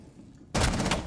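A sudden loud gunshot in Rainbow Six Siege, a headshot during a competitive esports match, bursting in after a quiet stretch and ringing on as a dense, sustained blast of noise.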